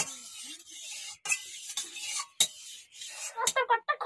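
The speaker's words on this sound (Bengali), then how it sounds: "আগে তেলটাকে নাড়িয়ে দিই" Oil is stirred in a cooking pan, making close, rough scraping and clattering strokes in uneven bursts, with brief pauses between movements.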